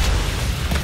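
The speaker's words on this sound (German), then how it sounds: "Keine Munition mehr, ich habe jetzt nur noch den Raketenwerfer. Ich teste das Ding hier mal." A rocket launcher fires in the video game DOOM, one loud, deep, booming blast with a rumbling tail, dense and close, lasting under a second.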